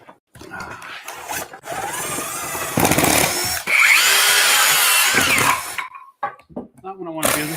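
Screw gun driving screws into drywall on a ceiling, several whirring bursts of the motor with a buzzing tail between quieter gaps, close and loud, with someone talking at the end.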